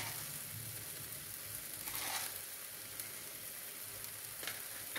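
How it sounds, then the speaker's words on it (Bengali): Store-bought spice mix, salt and sugar sauté in a pan with a steady, soft sizzle and occasional brief stirring scrapes, heard close and alone. "এবার একটু কষতে হবে, একটু কষতে হবে"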